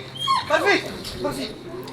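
Barfi the dog whimpers and yips in short high whines, fairly close and loud, over a brief stretch that carries voices and background sound.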